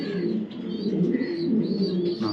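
A male racing pigeon coos close by in a low, steady, throaty rumble that runs unbroken, with no voices over it.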